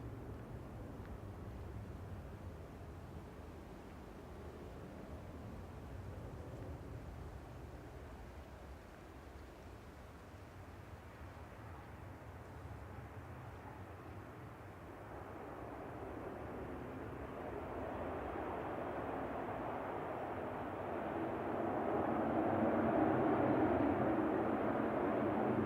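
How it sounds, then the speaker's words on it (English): An ATR turboprop airliner at Manchester Airport rumbles faintly in the distance, its drone slowly swelling louder toward the end, with light crosswind noise. "Just in time for ATR."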